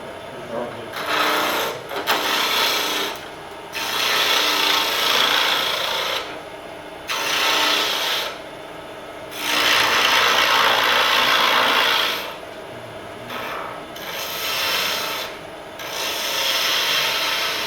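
Wood carving with a gouge, a rough rasping, scraping stroke repeated in bursts of a second or two separated by brief pauses, close and fairly loud, with voices talking faintly in the background.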